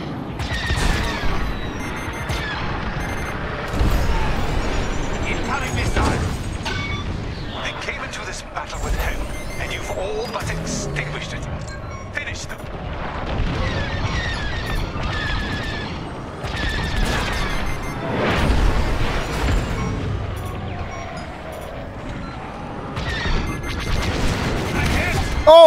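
A point-blank rocket explodes in Star Wars Squadrons space-combat gameplay, with heavy booms and sharp blasts recurring amid continuous game noise over a long stretch, with a voice talking over much of it.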